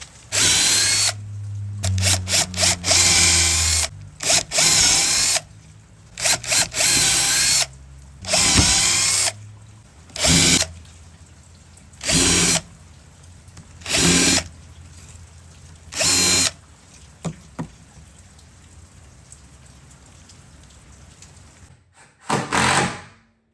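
A power drill bores holes into a wooden climbing hold, sounding as about ten loud, close whirring bursts of a second or so each, separated by quiet pauses.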